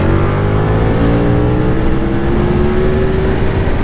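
A KTM 1290 Super Duke R motorcycle engine drones loud and steady, its pitch rising slowly as it pulls, with no voices over it.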